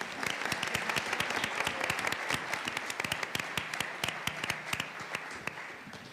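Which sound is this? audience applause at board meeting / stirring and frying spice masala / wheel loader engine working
audience applause at board meeting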